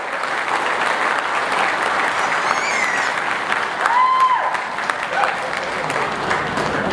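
An audience at a business success seminar breaks into loud, dense, sustained applause that fills the room evenly. A faint whistle or voice rises briefly partway through.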